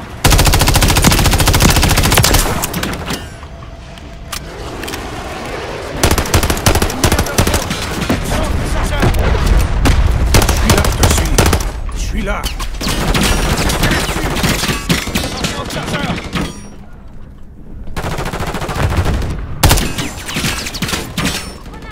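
Loud, sustained automatic gunfire and rapid shots from the Call of Duty Modern Warfare 3 video game, with dense bursts running nearly continuously and only brief lulls, under game effects.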